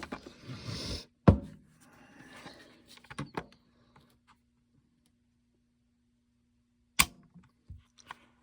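An empty G Force Saddlehorn lever-action .357 Magnum rifle is handled and dry-fired, giving a few sharp metallic clicks and snaps, close and isolated, separated by quiet gaps.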